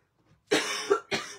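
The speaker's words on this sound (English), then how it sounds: "We're just coughing" Two harsh coughs close to the mic, the first drawn out and the second short and sharp, with no talking.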